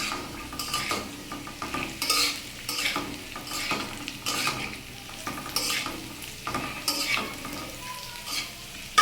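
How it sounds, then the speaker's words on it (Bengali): Soaked soybean chunks stirred and fried in a pan for a vegetarian potato and soybean dish: steady sizzling under repeated scraping strokes of a spatula against metal, close up, with no voices. "এই যে ভিজে রাখা সয়াবিনটাও এখানে দিয়ে দিচ্ছি, সাথে একটু কষানো হবে"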